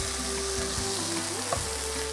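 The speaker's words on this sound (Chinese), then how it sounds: "我们现在要来做煎牛肉的动作" A thick, thawed American ribeye steak fries in hot olive oil in a pan. It gives a loud, steady, close sizzle with faint crackles and no voices.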